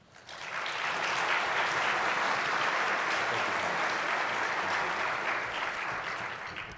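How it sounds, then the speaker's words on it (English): Audience applause for a keynote speaker at a benchmark launch summit: sustained, dense clapping from a large crowd. It swells in quickly, holds steady for several seconds, then begins to taper off. "So thank you for that applause for Thomas"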